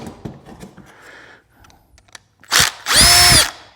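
Power drill backing screws out of a printer during teardown: quiet clicks and handling give way to two loud, close whirring bursts, the second longer and steady.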